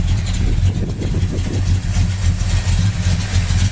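A restored 1968 Pontiac GTO convertible with a built 400 V8 and headers idles loudly and steadily up close, its deep rumble pulsing evenly with a slight rhythmic lope and no talk over it.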